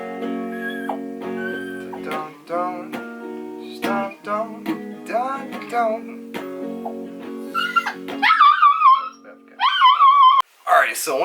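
A dog whimpers and yips in quick, high, squeaky bursts near the end, following a stretch of a person singing along to lyrics; the yelps are loud and close, the dog interrupting the voice.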